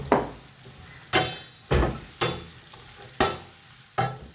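Food is sautéed in a frying pan, with a spoon scraping and knocking against the pan about six times in a steady rhythm over a soft continuous sizzle, close and clear with no talking.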